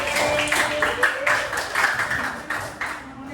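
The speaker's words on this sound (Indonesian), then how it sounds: "Beri tepuk tangan untuk kelompok" Students in an Indonesian classroom applaud a student group, with quick, fairly regular claps from a small class that ease off slightly toward the end.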